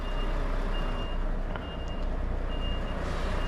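A truck's reversing alarm beeps at a steady repeating rhythm under heavy, constant roadside rumble and engine noise near a motorway, with no voices.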